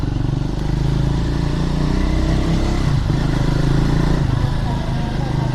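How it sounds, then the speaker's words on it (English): A motorcycle's exhaust gives a constant low rumble, loud and close, as the bike rides along a road. A voice can be heard talking over the engine. "Man, I love the exhaust of this bike."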